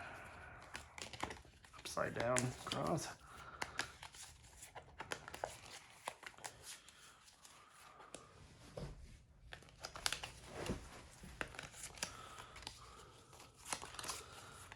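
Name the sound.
shuffling cards of a wrestling promoter card game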